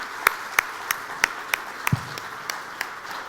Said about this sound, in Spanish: un fuerte aplauso para los señores economistas que aquí nos acompañan.